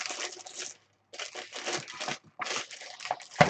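Kitchen scales being slipped into a thin plastic bag, giving bursts of close crinkling and rustling plastic separated by short pauses, with a sharper crunch at the end.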